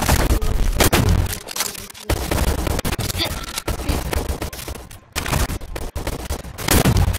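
A semi-automatic gun in the online shooter Shell Shockers fires rapid, loud, dense volleys of shots, broken by a few short pauses.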